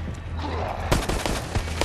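Gunfire from the video game Resident Evil Resistance crackles in a quick volley, a dull muffled stretch giving way to loud, sharp repeated shots that continue to the end.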